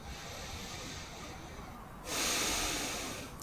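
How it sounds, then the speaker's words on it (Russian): Slow, deep chest breathing during a breathing exercise, a steady airy inhale that swells into a louder, broad rush of breath, heard close and alone without talk. "Теперь грудное дыхание."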